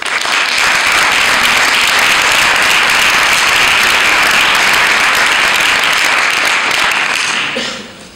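Loud, sustained audience applause at a conference on games in schools, a thick wash of many hands clapping continuously before tapering off quickly at the end.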